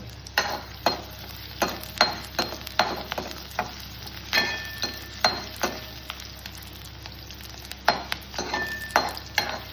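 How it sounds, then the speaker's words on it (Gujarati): Onions sauté in a pan beneath a soft, steady sizzle, broken by regular sharp clinks and scrapes of a spoon stirring against the metal, about a dozen strikes spread evenly at close range with no voices. "આ ડુંગળી આપણે ઉમેરી દીધી છે ડુંગળી જ્યાં સુધી રાતની થાય ત્યાં સુધી એને આપણે ચડવા દેવાની છે"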